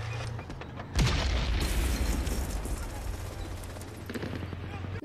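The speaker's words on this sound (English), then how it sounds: "No! It exploded in his hand!" A sudden loud blast from a sticky bomb exploding in a soldier's hand in the 1998 war film Saving Private Ryan hits about a second in, followed by a rumbling tail of battle noise, with gunfire and a faint voice mixed in.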